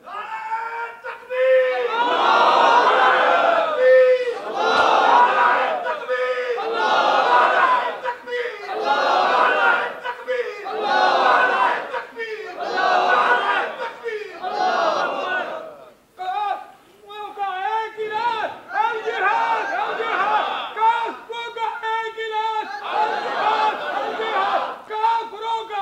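A large crowd chants religious slogans in rhythmic call-and-response rounds, a leader's voice alternating with loud massed shouts that repeat steadily, then shift to a more melodic chanted section.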